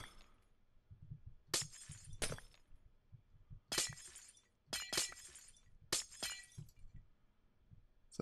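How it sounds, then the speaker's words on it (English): Glass blocks break in a modded block-building video game, a series of sharp shattering crashes arriving in irregular bursts, several close together, with quiet gaps and low background noise between them. "Breaky glass."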